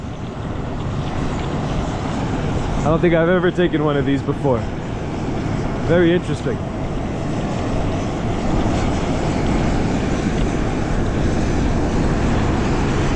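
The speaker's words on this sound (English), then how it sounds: "It's an old Q400 Bombardier converted into a commercial Ethiopian jet." Engines of a Bombardier Q400 turboprop at Bahir Dar Airport in Ethiopia give a loud, steady droning roar that runs throughout, while someone talks briefly over it.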